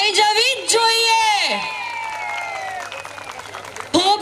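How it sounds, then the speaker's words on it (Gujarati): An audience at a Dr Babasaheb Ambedkar birth anniversary event applauds after a call for clapping, the brief burst overlapped by a loud voice speaking over the PA. "બીઆર આંબેડકર ગ્રુપ માટે એકવાર ફરી તાળીઓ થઈ જવી જ જોઈએ"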